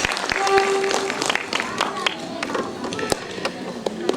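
Audience at a musical tribute event clapping for a dholki player, a scattered, moderate round of applause with uneven claps, heard at a slight distance and fairly soft.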